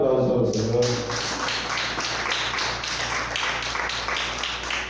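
Church congregation clapping in praise at a service, a moderate, fairly steady burst of hand claps with a rhythmic tapping pulse, following a short stretch of voice at the start.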